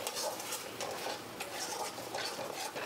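Garam masala and chili powder sautéing in a pan with little oil for restaurant-style chicken bharta, a steady close scraping and soft sizzle from continuous stirring throughout.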